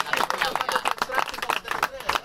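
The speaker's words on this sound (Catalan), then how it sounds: "Un aplaudiment per Pepi." A small studio audience claps for Pepi on a radio comedy show, a brief burst of scattered, uneven applause that is mixed with voices.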